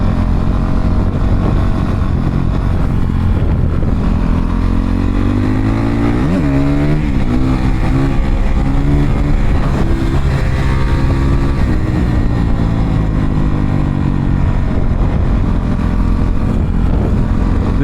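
A Honda CRF 450 dirt bike engine roaring continuously up close, loud and sustained, with the pitch rising and falling as the throttle changes through the ride.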